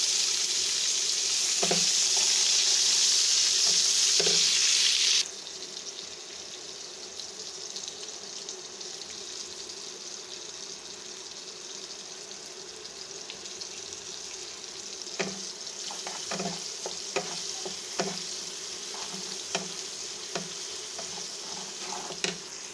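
Whole cumin seeds and onion sizzling in hot oil in a pan, a loud hissing crackle that drops to a softer steady sizzle, later broken by scattered clicks and stirring knocks.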